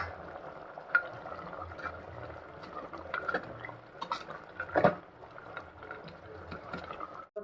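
A spoon scrapes and clinks against a pan while chicken is stirred with chicken masala and garam masala, sounding as steady close clatter with a few sharper knocks.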